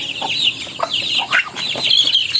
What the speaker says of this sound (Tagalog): Yan na po yung ating mga alagang ducklings.